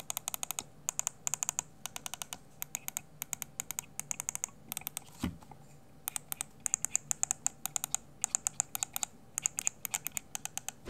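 Side buttons on a Razer Naga Pro gaming mouse click in quick bursts of crisp, light taps, rapid clusters separated by short pauses, close and alone.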